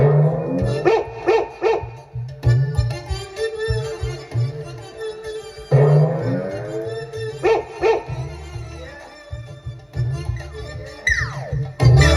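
A dog barks and yips repeatedly in short bursts, fairly loud and close, mixed with background music and other sounds in a rural Zadipatti comedy scene.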